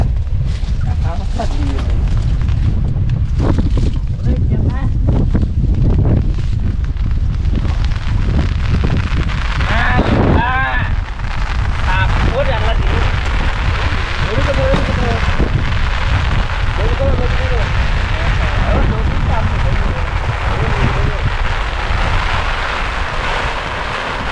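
Heavy rain pours over a water-lily wetland during a storm, a loud, unbroken roar with wind buffeting the microphone and voices calling faintly through it.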